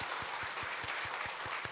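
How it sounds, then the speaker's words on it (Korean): Church congregation at a Sunday service claps in welcome, a brief burst of steady, rhythmic applause from a crowd at moderate distance. "우리 박수로 환영하도록 하겠습니다"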